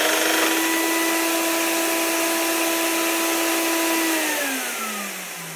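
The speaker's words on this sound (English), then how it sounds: "under here lives the vacuum cleaner," A workshop vacuum cleaner runs as a power tool dust extractor, giving a loud, steady motor whine with a constant pitch that drops away as the motor spins down at the end.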